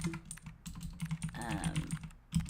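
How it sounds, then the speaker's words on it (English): Typing on an RGB mechanical keyboard, a quick irregular run of close clacky keystrokes with a short pause, faint and near, in a quiet room. "I'm just thinking, like, how nice it is to hear my keyboard"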